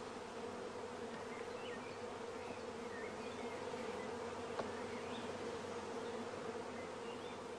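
Honey bees buzz around a swarm box during queen rearing as frames of pollen, water and food are lowered among them, a dense, steady hum with no break throughout.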